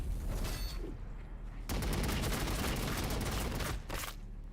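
Rapid volleys of gunfire roar in a Warhammer 40,000: Battlesector battle, dense overlapping shots with a brief lull before a sustained loud burst that cuts off near the end.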